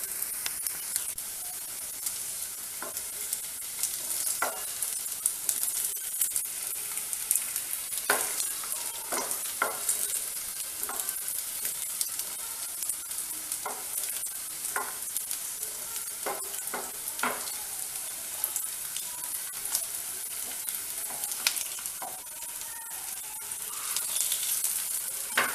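Soya chunk roti cooking in a pan after being flipped to the other side, a steady bright sizzle with scattered sharp crackles and pops, close and continuous, without talk.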